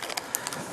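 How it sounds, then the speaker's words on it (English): A plastic seal being cracked open on a Life Water bottle, heard as a few sharp, bright clicks and crackles spaced over under a second, close up and fairly quiet, with no talking. "So let's break the seal"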